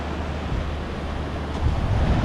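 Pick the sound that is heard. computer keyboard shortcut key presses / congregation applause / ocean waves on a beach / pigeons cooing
ocean waves on a beach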